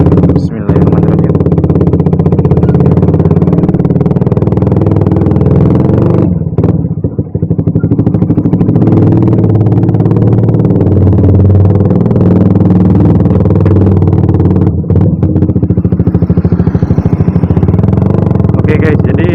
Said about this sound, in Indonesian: Oke, motor gue udah nyala, langsung aja kita reading.